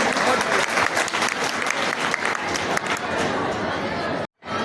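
Dense, loud audience applause for a schoolgirl honoured at a community ceremony in Indore, a continuous roar of many clapping hands with crowd murmur that cuts off abruptly near the end.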